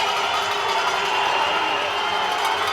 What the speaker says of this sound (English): You can hear the cowbells, you can hear the cheering.